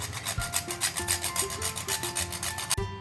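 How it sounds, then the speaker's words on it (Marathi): Whole nutmeg rubbed back and forth on a grater for wheat ladoo, a steady rhythmic rasping of quick repeated strokes, close and clear, with no talk. "आपल्याला हे जे जायफळ आहे ते किसून घालायचं"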